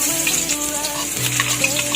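Garlic and onion fry in hot oil in a pan, giving a steady close sizzle and hiss for a couple of seconds with faint clinks of the utensil and no speech.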